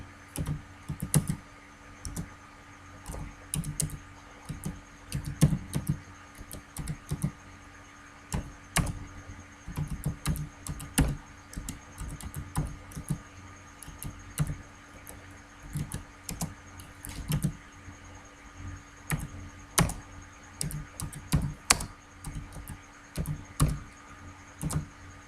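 Someone types C++ code on a computer keyboard in an uneven, steady run of close clicking keystrokes with brief pauses, and no voices.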